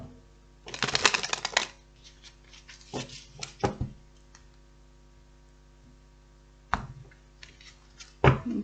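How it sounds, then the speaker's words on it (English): Tarot cards are shuffled close up in a few brisk riffling bursts, the first and last loudest, with softer taps and pauses between. "One more shuffle."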